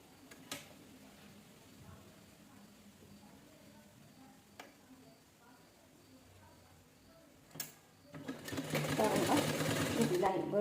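A domestic sewing machine stitches fabric layers for a square and round seat cushion, its rapid whirring run swelling loud toward the end after quieter stretches with sharp clicks and someone talking over it.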